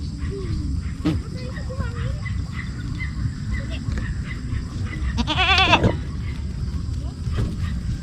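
Goat at a riverside family campsite in San Antonio, Zambales, giving one short wavering bleat among soft outdoor ambience and insect chirps, with people talking nearby.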